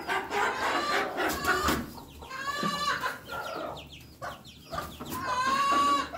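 Hens clucking and a rooster crowing inside a finished chicken coop, several birds calling close by in overlapping bursts, with a clear crow near the end.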